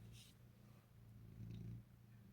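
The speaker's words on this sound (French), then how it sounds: "tu peux ronronner, on aime ça" A cat purrs close by, a soft, low, continuous rumble that swells slightly toward the end, quiet and steady.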